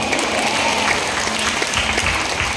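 A church congregation at a worship service in Nasugbu, Batangas claps together in loud, sustained applause that fills the whole moment with dense, even noise.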